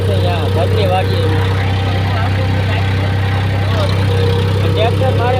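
A tractor engine pulling a harrow through a wheat field drones with a loud, constant low rumble, and someone talks over it.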